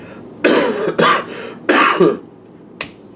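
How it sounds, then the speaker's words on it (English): A few harsh throat clears and coughs in quick succession, close and loud, with brief pauses between them. "Sorry about the cough"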